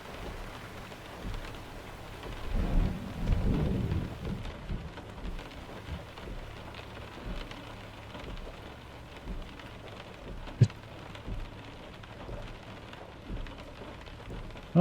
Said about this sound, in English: Oh, it's starting to slow down with the rain.